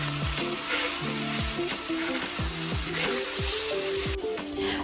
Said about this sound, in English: After sauce is in the pan, we stir fry for about a few minutes.